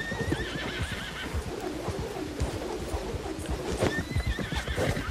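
Horse in Red Dead Redemption 2 whinnying twice, high and wavering, over a steady clip-clop of hooves, with cooing birds faintly in the background.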